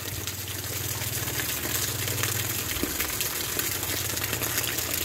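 Continuous gushing water runs from a shower, a steady hiss with a low hum underneath, close and unbroken throughout.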